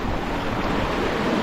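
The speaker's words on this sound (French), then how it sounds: "Bon, il n'y a que 20 nœuds de vent." Wind blusters and waves wash steadily around a sailboat under sail in about 20 knots of wind, a continuous loud rushing roar with no voices.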